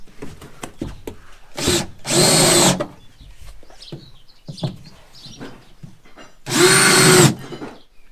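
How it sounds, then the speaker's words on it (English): Two loud bursts of a cone drill grinding into the metal body panel of a Citroen Dyane, the first about a second long, the second shorter, with quieter clatter and scraping in between. "we're actually going to use a cone drill because it's much faster"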